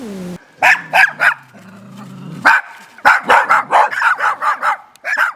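Abandoned dogs kept as noisy guards at National Guard frontline positions bark in repeated close, loud bursts, a quick volley, a pause with low whining, then a long rapid run of barks.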